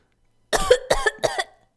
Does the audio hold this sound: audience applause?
no